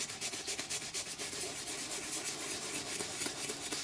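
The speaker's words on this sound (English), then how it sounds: "I'm going to gently work it over the surface of the leather in a circular motion" Leather cleaner worked in circles over a Rolls-Royce leather seat, giving a steady soft scrubbing and rubbing texture close up, continuous with slight rhythmic swells and no talking.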